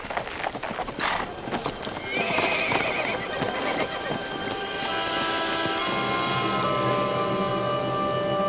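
Horses riding on in a German audio drama of a Karl May Western, hooves clip-clopping steadily with a horse whinnying, layered under a rainy outdoor ambience and a drifting musical score.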